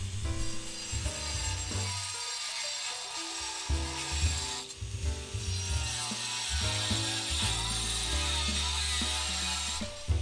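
A loud angle grinder trims the broken edge of a clay pot. It whines continuously and harshly, with the pitch shifting as the disc bites and eases off, and it dips briefly twice.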